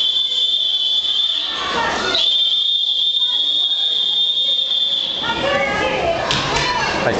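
A loud, continuous high-pitched alarm tone sounds for several seconds during a school earthquake evacuation drill, with children's voices and movement echoing in a large space around it.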